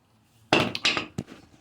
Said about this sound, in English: Just knock it in with a copper head, because it's a copper hammer.